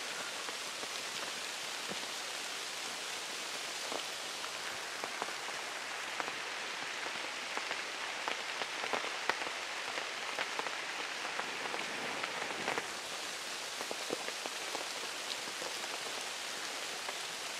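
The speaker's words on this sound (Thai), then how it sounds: "ฝนก็เบานะครับตอนนี้แต่ว่าถ้าเรายืนแบบนี้แป๊บหนึ่งก็เปียก" Steady rain pours onto a forest campsite roof, a dense, even patter that holds constant throughout with scattered louder drops and no voices.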